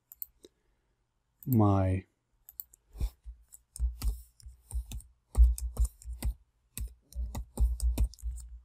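A computer mouse clicks in short, sharp, close taps scattered through the stretch, mixed with a few keyboard-like clicks and a brief spoken word.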